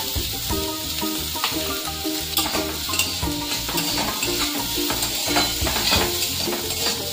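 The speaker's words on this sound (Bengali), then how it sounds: "একটু দিয়ে দিলাম বাটার। পেঁয়াজ দিয়ে দিলাম" Onion sizzles and fries in butter in a pan, with steady crackling, scraping strokes of a spoon, close and fairly loud with no talking.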